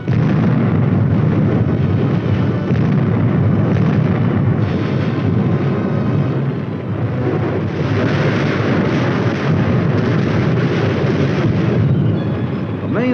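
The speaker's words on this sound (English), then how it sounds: "At the Artillery Fire Direction Center, the firing data is prepared and the guns respond." A 1950s US Army artillery barrage rolls on as the guns fire on an enemy strongpoint. Dense, overlapping booms merge into one loud, continuous roar for thirteen seconds, heavy and muffled like an old film soundtrack.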